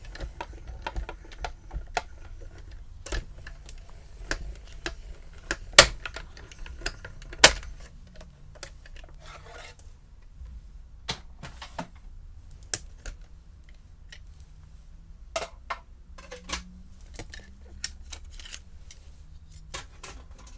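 A die-cutting machine crunches through a card piece for a latte-themed greeting card, giving a run of sharp clicks and snaps with a few louder cracks near the start, then lighter intermittent ticks, close and with no voices.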